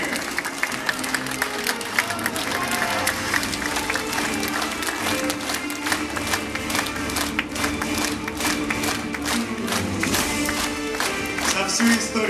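Long, sustained applause from a large crowd filling a hall in Zhytomyr, welcoming soldiers home from the front; dense, steady clapping with scattered cheers runs loud and unbroken throughout.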